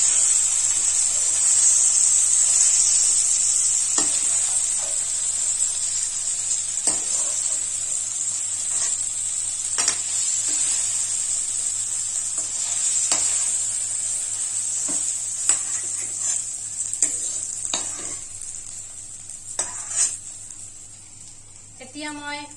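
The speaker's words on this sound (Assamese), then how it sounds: "আমাৰ জিকা আৰু আলুখিনি ধুনীয়াকে ফ্ৰাই হৈ গৈছে।" Ridge gourd and potato pieces fry in oil in a pan over a medium flame, giving a constant bright sizzle with occasional clinks of stirring while someone talks.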